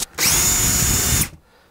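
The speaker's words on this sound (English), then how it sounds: "So I'll put this in, start my drill." An electric drill bores into wooden window trim, starting abruptly with a loud whining spin that holds steady for about a second, then cutting off and leaving faint quiet behind.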